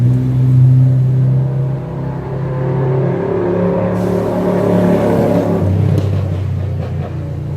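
Two motorcycles roll past close by, their engines making a loud, steady low rumble that swells and shifts pitch as they pass, with no talking.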